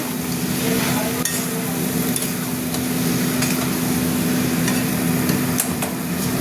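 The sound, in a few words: stirring banana flower (mocha) curry in pan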